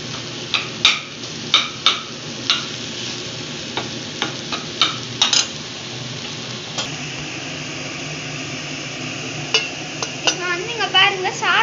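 Cooked basmati rice for brinji is sautéed and stirred in a pan, with soft sizzling and a series of sharp spoon scrapes and knocks against the metal, close and moderately loud.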